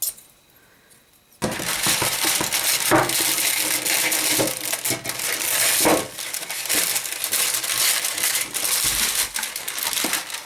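After a second of near silence, loud crinkling and crunching of baking paper begins close by as excess paper is trimmed around a springform pan, continuing in bursts with sharp crackles.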